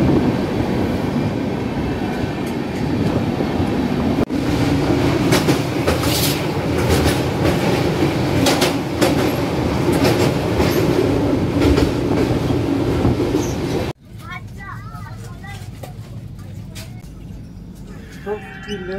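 The Puri Howrah Shatabdi Express runs steadily in a loud, continuous rumble with rhythmic clickety-clack of wheels, heard from inside, before abruptly giving way to quieter surroundings near the end.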